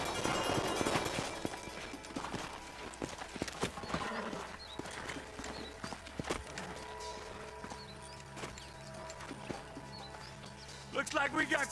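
Horses in the video game Red Dead Redemption trot with a steady clip-clop of hooves, close and moderately loud, while voices talk over the riding.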